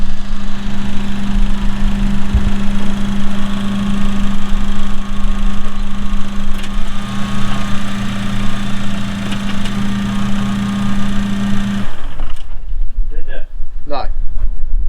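A Suzuki Vitara engine runs in drive with the handbrake on, a loud steady droning hum with a strained low tone that cuts off abruptly near the end, followed by brief talk and quieter movement.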